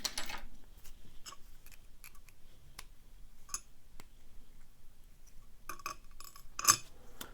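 Small metal clips are pried out of a picked Master Lock Pro Series 6327 padlock, making faint, scattered clicks and light metallic clinks in a quiet room.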